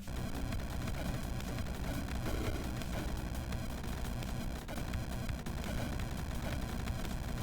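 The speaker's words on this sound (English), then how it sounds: "It's just a perpetual white noise machine right now." Dense, unbroken static-like cacophony of overlapping effects from the video game Rift Wizard 2 holds at a steady, loud level for the whole stretch, with no pauses and no talking.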